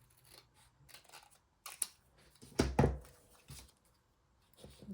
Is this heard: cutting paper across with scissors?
yes